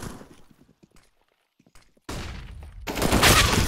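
In a Counter-Strike match on the Cache map, scattered quiet thumps and footsteps give way to a loud, sustained spray of automatic gunfire that keeps building to the end.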